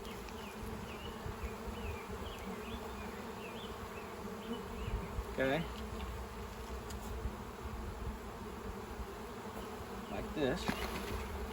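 Dense, steady buzzing of many honey bees being shaken off a hive frame, with a couple of brief knocks from the frame and a low voice speaking under the hum.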